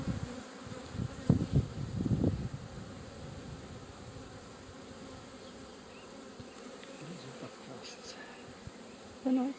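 Honey bees buzzing on a brood frame during a hive inspection, a steady close drone with a few louder bursts as bees pass near.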